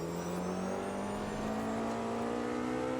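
An LMP prototype race car engine in the Automobilista 2 racing game drones loudly and steadily at high revs, a continuous harmonic whine with slowly rising pitch and no talk.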